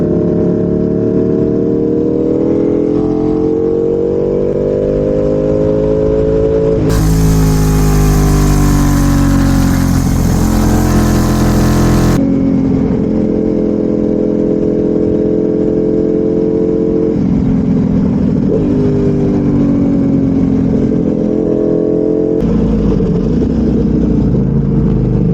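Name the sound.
Ducati 1199 Superleggera motorcycle engine while riding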